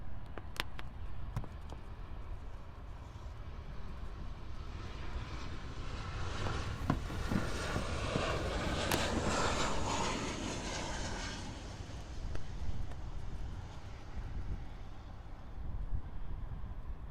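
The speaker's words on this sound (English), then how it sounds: "our next arrival is Copa Airlines Flight 334 from Panama City" A Copa Airlines Boeing 737-800 arrives at Miami International Airport, a broad jet roar that swells to a loud peak in the middle before easing, heard alone without voices.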